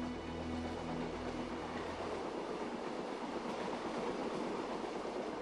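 Venice Simplon Orient Express running overnight on rails from Paris toward Switzerland, a steady, close rumble and rattle of the carriage rolling along the track, continuous with no voices.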